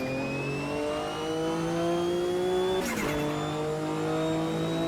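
A race car engine during a race, heard from inside the car, holds a loud, steady high-pitched whine that climbs slowly, drops sharply at a gear change, then builds again without a break.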